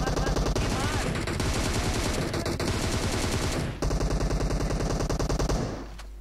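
Rapid automatic gunfire from the mobile game PUBG Mobile rattles in continuous bursts, loud and dense, broken by a brief pause midway before the firing resumes and cuts off at the end.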